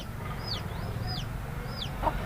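Chickens on a small poultry farm in Deoli, Chalisgaon, give a few short, high calls over a steady low rumble of background noise, with no talking.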